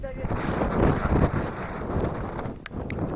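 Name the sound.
wind while cycling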